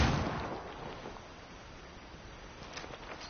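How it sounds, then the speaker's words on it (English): A flashbang grenade going off in Ghost Recon Wildlands: one sharp, loud burst right at the start that decays into a long, muffled rumbling ring, with a few faint thuds later. "Throwing a flashbang."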